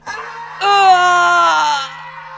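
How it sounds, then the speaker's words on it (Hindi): A long, harsh, painful scream rises sharply and holds loud for over a second before fading, a close sound effect in a spoken Hindi horror story, preceded by a brief shorter cry. "तभी उसको एक दर्दनाक चीख सुनाई दी"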